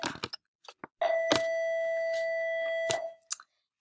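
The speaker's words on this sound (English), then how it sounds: "All right, the bell's ringing." An electric school bell in a classroom gives one sustained, even ring lasting about two seconds, framed by brief knocks and rustles.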